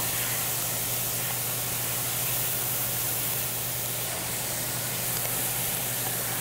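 Chopped garlic cooks in oil while being stirred, a dense, even sizzling hiss that holds steady and loud throughout with a low background hum, no voices.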